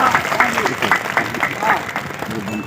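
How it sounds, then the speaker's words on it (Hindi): Loud, sustained crowd applause at a Nilamber Pitamber martyrdom day event in Adda Mahua, busy and close, with voices mixed into the clapping. "जोरदार ताली"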